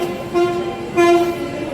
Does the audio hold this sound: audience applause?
no